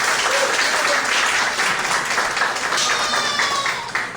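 An audience at an event bursts into applause for Maria Dolores, brisk clapping that stays strong and full before easing slightly at the end.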